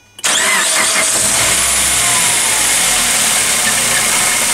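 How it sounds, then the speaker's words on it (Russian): A 2008 Suzuki Grand Vitara's 2.0-litre 16-valve J20A engine with 341,630 km cranks briefly and catches, then settles into a loud, steady run close to the microphone. "Двигатель 2 литра 16 клапанов, J20A. Запуск двигателя."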